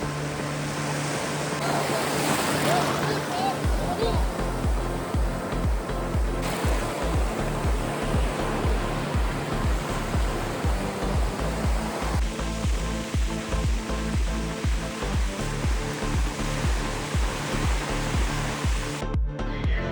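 Sea waves at Diveagar beach wash in a steady, loud roar of surf, with no voices heard.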